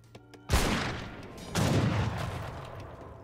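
Leather cannon gunfire in an Age of Empires battle: two heavy booming blasts about a second apart, each followed by a rumbling, crackling tail, loud and close.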